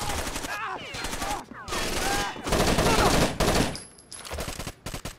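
Rapid automatic gunfire bursts from blind-firing in the shooter game Rainbow Six Vegas 2, loud and dense with brief gaps between volleys and game sound around them.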